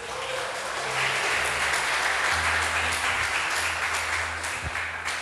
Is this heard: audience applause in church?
yes